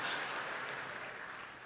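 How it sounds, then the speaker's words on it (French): Stadium crowd applauding a humorist's show in Kinshasa, a dense steady wash of clapping from a large audience, loud and continuous throughout with no speech over it. "Est-ce qu'on peut applaudir?"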